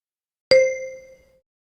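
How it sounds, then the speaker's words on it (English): A single clear bell ding rings out from silence and decays smoothly over about a second. "Wait for the bell and then repeat after me."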